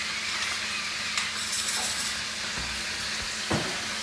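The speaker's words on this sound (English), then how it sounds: "That's sizzling, so all that garlic's going in there" Steady, hissing sizzle of garlic frying in hot oil, continuous and close, with a few brief crackles and clinks.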